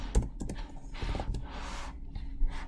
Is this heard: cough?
no